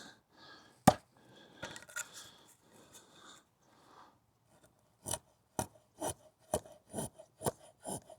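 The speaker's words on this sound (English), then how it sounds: "I'm shaving this wood right where it took all that beating" A knife with a saber grind and convex edge shaves wood, giving a series of about eight sharp, close scraping strokes at a steady rhythm after quieter handling sounds, with no talk.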